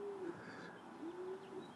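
Racing pigeons coo softly inside a loft, with two faint, drawn-out low coos over a quiet background.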